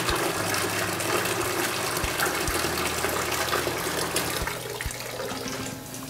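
Seawater runs steadily from a hose used to fill a veliger larvae rearing tank, a continuous close gushing rush with no talk over it.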